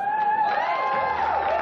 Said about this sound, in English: let's have a clap for Strutty's suit